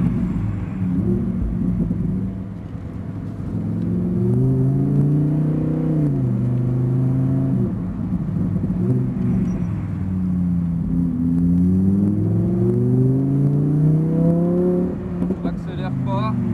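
Engine of a sports car, a Ferrari 488 or Lamborghini Huracan Performante, revving and climbing through gears on a race circuit, its pitch sweeping up and down in a steady loud drone while an instructor talks over it.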